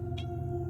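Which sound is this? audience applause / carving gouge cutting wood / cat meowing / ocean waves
cat meowing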